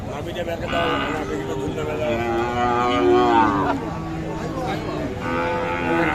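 Sahiwal heifers at a cattle sale give long, loud lowing moos that rise and fall over about six seconds, with people talking close by throughout.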